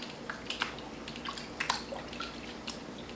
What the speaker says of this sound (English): Submerge the whole wig into the water.